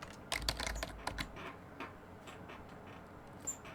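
Someone types on a computer keyboard to search in Windows: a quick, quiet burst of key clicks early on, thinning to a few scattered taps.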